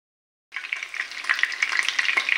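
Minced meat cutlets frying in a large pan, a steady close sizzle with crackling spatters that starts abruptly and continues, no talking.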